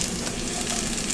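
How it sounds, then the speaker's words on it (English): Steady, crackling sizzle of garlic frying in a hot pan, a dense hiss with no pauses for the whole short moment. "for the garlic, you want to cook it until you can start really smelling it and hearing it sizzle"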